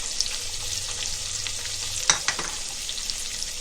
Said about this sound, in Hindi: अभी हम प्याज डाल रहे हैं और प्याज के साथ नमक डालेंगे